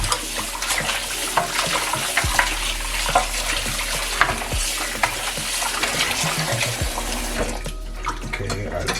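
Running water splashes steadily into a bowl of pork with clattering and sloshing, fairly close, with a few louder knocks along the way.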